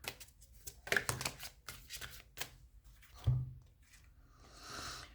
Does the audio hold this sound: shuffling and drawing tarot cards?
yes